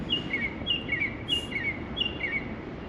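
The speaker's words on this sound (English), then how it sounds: "there's a bird in this tree over here" A small bird chirps from a tree in short repeated high twittering bursts, four or five phrases spaced evenly across a few seconds, moderately near over a steady outdoor background hum, with no one talking.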